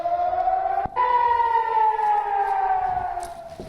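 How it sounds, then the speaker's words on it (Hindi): A civil defense warning siren in Israel during Hamas rocket attacks wails loudly and steadily, its tone briefly cut off then resuming with a slow rise and fall, sounding alone with no voices. "ये सायरन लोगों को आगाह करने के लिए, लोगों को बताने के लिए है कि वो सुरक्षित स्थानों पर चले जाएं।"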